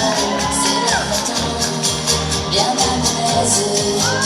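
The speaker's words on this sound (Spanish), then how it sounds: "un fuerte aplauso para Fernando Rivero Máximo." Loud crowd cheering and whooping over music at a quinceañera, a sustained wall of voices with scattered shouts, as if a large room erupts in approval.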